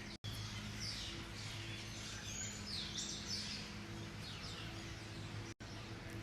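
Many birds chirp and call from trees in a tropical rainforest, a faint, busy chorus of overlapping tweets over steady background hum, with two brief dropouts and no talking.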